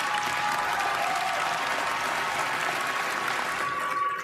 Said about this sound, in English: That is what's known as a smattering of applause